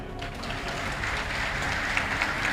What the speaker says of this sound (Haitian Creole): battons bravo pour Issa Pavel